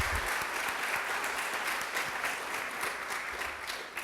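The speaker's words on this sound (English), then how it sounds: "Please join me in giving them a round of applause" Audience applause at a Long Beach State of the Second District address, dense steady clapping from a full room that holds at an even level from start to finish.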